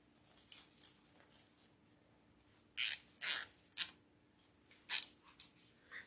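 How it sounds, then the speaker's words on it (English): Scissors snip tulip flower stems close up for a spring wreath, giving a few crisp cuts in a quick cluster followed by a couple more, with quiet handling in between and no voices. "Let's snip those way down."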